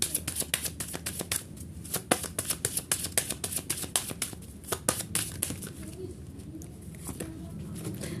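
Tarot-style cards shuffled by hand, a quick rapid patter of soft flicks and taps in uneven bursts, close but faint.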